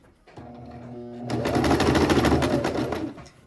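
A sewing machine backstitches a shirt seam, first a steady whirring motor, then rapid close mechanical stitching that speeds up and runs for a couple of seconds before slowing to a stop.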